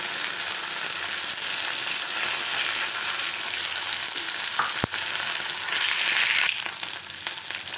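Okra pieces fry in a tempering of hot oil for bhendi rice, giving a loud, dense, continuous sizzle with a brief clink partway through and no voices.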